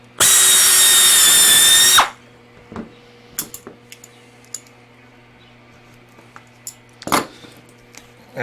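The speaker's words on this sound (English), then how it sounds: "I'm just going to go ahead and drill 2 holes in there and pin them together" A power drill whirs loudly for about two seconds while drilling holes in an aircraft flap handle part, then stops, followed by scattered clicks and taps of handling tools.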